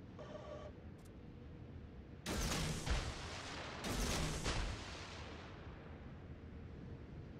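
Naval gunfire from the destroyer Farragut in World of Warships: two heavy booming salvos, each a sharp crack followed by a rolling rumble, standing out over a low ambient background with no speech.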